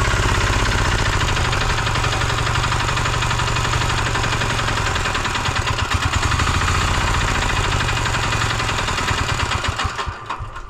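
A diesel walk-behind tractor engine idles at low speed, a steady close chugging drone with fine rapid knocking that runs unbroken and loud until it falters and fades in the last second.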